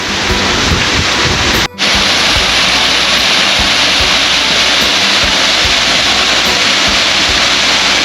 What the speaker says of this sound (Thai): อันนี้คือน้ำตก